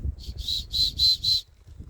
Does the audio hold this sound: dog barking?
no